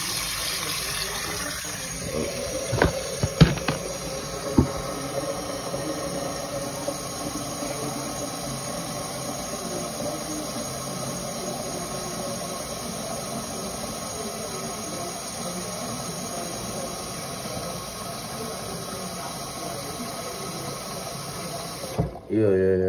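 Water runs steadily into a pot, a continuous splashing flow that lasts most of the stretch, with a few knocks early on and a brief clatter at the end.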